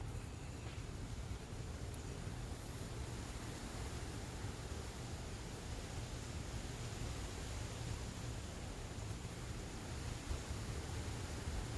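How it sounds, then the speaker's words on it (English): A tube-shaped Conair hair dryer blows over watercolor paper, producing a faint, steady airy whoosh that holds unchanged throughout. "I'm just using it is a Conair hair dryer. It's a tube shape."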